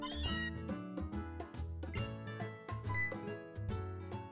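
A pet cat meows at home in the video game Pokémon Ultra Sun, heard as a few short synthesized cries over steady, bouncy game music, moderately loud with no talking.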